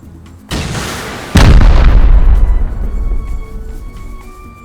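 Heavy weapon shells fired in the survival game Rust, two big booming blasts a moment apart, the second louder with a deep rumbling roar that decays slowly over several seconds, no talk.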